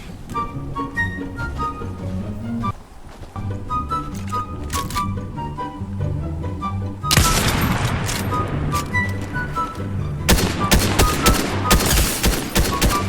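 Bursts of gunfire in Fortnite, rapid crackling volleys that grow dense and loud in the second half, layered over game music and sound effects.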